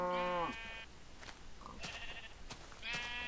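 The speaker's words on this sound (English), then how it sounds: "these annoying sheep" Sheep in Minecraft bleat three times in a desert and jungle world, each a short wavering cry with quiet gaps between, close and clear with no talking.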